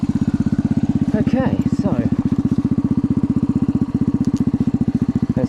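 A motorcycle engine, just warmed up and with its carburetor freshly adjusted, runs with a steady, rapid, loud thumping beat, close by, while someone speaks briefly over it.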